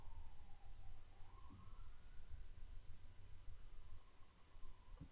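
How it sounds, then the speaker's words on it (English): An ambulance siren passes outside, a faint wavering wail rising and falling over steady low background noise for several seconds, with no talk over it. "Ambulance. I live in the capital of ambulances."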